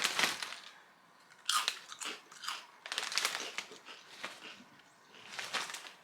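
Barbecue-flavoured Fritos fried corn crisps are bitten and chewed up close, giving several bursts of loud, crisp crunching separated by short pauses, with no talking.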